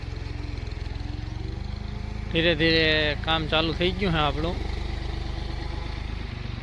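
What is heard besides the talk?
a loader filling a tractor trailer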